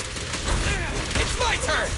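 Gunfire in the video game Zenless Zone Zero during a boss fight, rapid bursts of sharp shots and impacts over game effects, loud and close, with a voice partly overlapping.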